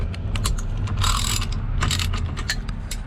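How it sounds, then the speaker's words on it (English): Ratchet wrench clicking in quick bursts during a Grip Royal steering wheel install, a dense run of mechanical ticks close to the mic over a steady low hum, with no talking. "Alright, now I found my ratchet here."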